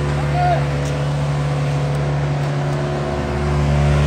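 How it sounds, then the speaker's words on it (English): Race car engine in the pit lane at Monza before a practice session, a loud steady low drone that swells slightly toward the end, with a voice speaking over it. "Inside that car, Sebastian Buemi will be starting the practice session."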